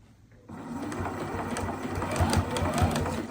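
A sewing machine runs steadily, stitching forward along the edge of fabric guided against the presser foot while making a simple DIY pillow; it starts abruptly after a brief quiet and hums on with a fast, even mechanical rhythm, close and clear.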